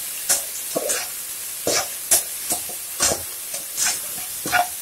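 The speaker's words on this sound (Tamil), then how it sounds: "நான் இப்போ இந்த வெங்காயம், தக்காளி கூட புதினா கொத்தமல்லியும் ஆட் பண்ணிக்க போகிறேன். இதுவும் அந்த ஆயிலில் நல்லா வதங்கட்டும்." Onion, tomato, mint and coriander sautéing in oil for a coconut milk pulao, heard as a soft sizzle under a series of sharp spoon-scraping strokes in an uneven rhythm, close by and without speech.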